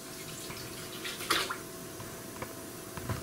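Distillate drained from a still's boiler trickling through a purification filter: a steady, soft wash of running liquid with a brief louder splash partway through, fairly quiet and with no voices.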